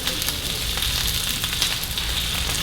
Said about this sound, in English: when you start sauteing those